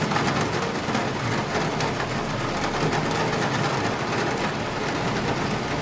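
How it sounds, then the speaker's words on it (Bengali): Heavy rain pours down in a steady, dense roar, loud and unbroken from start to finish, with no voices over it. "দেখো ঝমঝম করে কিন্তু বৃষ্টি এসে গেল।"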